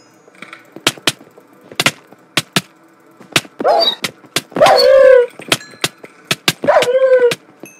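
Minecraft dogs whine and yelp in short harmonic bursts amid a steady series of sharp blocky thunks and hits during a SkyWars match on the Bedrock edition, fairly loud and close.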